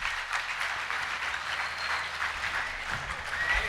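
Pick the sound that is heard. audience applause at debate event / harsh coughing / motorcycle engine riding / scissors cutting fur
audience applause at debate event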